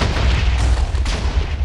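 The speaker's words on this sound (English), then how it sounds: "There's gonna be an explosion now." A blocky explosion goes off in Minecraft, a loud, sustained low rumbling boom that fills the whole stretch with a couple of sharper bursts layered in, no talk over it.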